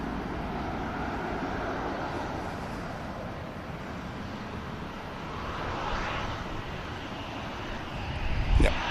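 An EasyJet airliner bound for Paris moves out for departure, a low, steady jet engine drone heard from a distance with wind noise, swelling slightly near the end.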